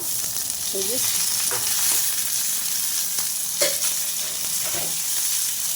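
Brinjal and neem flowers fry in a small pan, a continuous oily sizzle broken by several scrapes and knocks of a spoon stirring.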